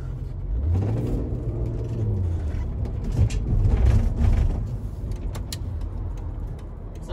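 A 2002 Volkswagen EuroVan camper van driving, a continuous low engine rumble and road whir heard from inside with a rising and falling engine note and light rattles.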